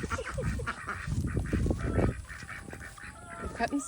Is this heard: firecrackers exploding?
no